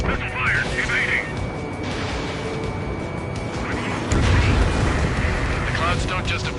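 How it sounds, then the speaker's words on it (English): Missile launches and explosions roar steadily in a jet combat game, Ace Combat 7, with a dense rumbling wash that swells louder near the end while radio chatter runs underneath. "Missile fire, evading."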